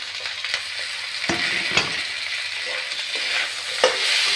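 Green chilies and tomatoes fry in a pan, a steady close sizzle broken by a few sharp clatters of stirring and sharper spits.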